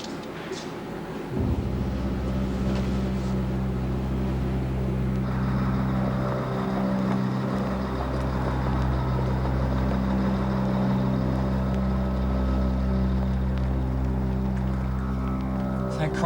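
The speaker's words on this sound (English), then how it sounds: "You better cut the engine." A car engine idles steadily while parked, a continuous low rumble running throughout at moderate level, with a brief louder surge near the start and no clear talk.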